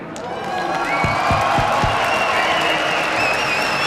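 An esports arena crowd at a League of Legends tournament in Katowice cheers and applauds in a steady, dense roar. A few sharp claps or thumps stand out early, and whistles or whoops rise above it later.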